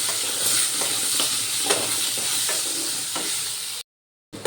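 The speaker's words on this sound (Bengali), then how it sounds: "নুন হলুদ দিয়ে আলুগুলো একটু ভালো করে ভেজে নেবো" Steady crackling sizzle of potatoes frying in hot oil with salt and turmeric, with occasional scraping stirs, loud and close, then a brief cut to silence near the end.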